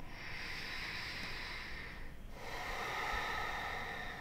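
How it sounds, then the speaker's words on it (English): Slow, deep breaths during a relaxing yoga practice, soft and airy, a long exhale followed by an inhale, close but quiet, with no talking. "Let's just come back to nice, slow breaths."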